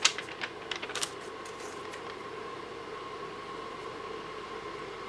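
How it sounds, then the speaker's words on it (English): A few sharp clicks, then a MAIRDI air purifier runs in turbo mode with a steady, loud whooshing hum of moving air. "it's putting out quite a bit of air in turbo mode"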